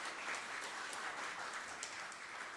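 A studio audience at a political talk show applauds steadily, a soft, even wash of clapping throughout with no talk over it.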